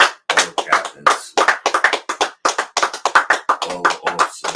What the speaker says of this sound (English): Let's clap it up for Commander General YAHANNA, man